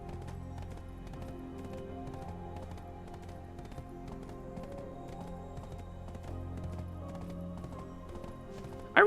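Horse hooves clip-clop at a steady gallop in the Black Desert fantasy game, a continuous rhythmic patter under game music, with a brief loud burst at the very end.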